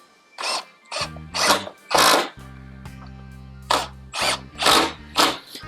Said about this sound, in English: Now I'm only going to put two screws in it for now.